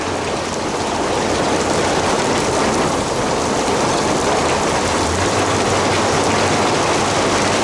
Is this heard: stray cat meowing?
no